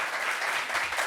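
Continuous studio audience applause welcoming a guest on a French talk show, a dense and even wash of many hands clapping at moderate loudness.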